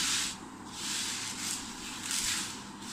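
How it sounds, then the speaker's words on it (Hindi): Dry lentils are stirred and mixed together in a container, a soft rustling, rubbing hiss that swells and fades in a few slow waves, quiet and close with no talk. "अब हम इनको मिक्स करेंगे सारी दालों को"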